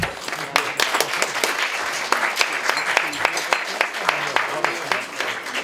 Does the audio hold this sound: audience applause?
yes